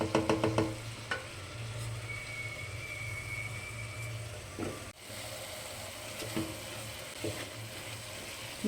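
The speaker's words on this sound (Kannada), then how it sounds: "ಸ್ವಲ್ಪ ಉರಿ ಇಟ್ಕೊತಾ ಇದ್ದೀನಿ, ಫ್ರೈ ಆಗಲಿ" Ingredients for millet fenugreek bath frying in a pan over a low flame, a soft continuous sizzle broken by occasional clinks and scrapes of stirring.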